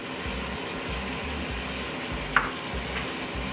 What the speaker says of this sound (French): Et je continue de mélanger un petit peu.